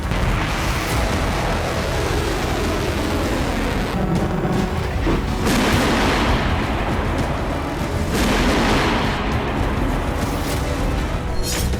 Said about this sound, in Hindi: कीव में एयर डिफेंस सुबह से ही एक्टिव है और कई धमाके अब तक सुने जा चुके हैं।